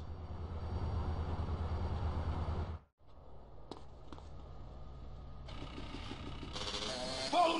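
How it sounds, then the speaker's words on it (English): A train rumbles past in the video game GTA San Andreas, a loud continuous roll that cuts off abruptly, then gives way to quieter engine and clatter sounds. "Follow that train!"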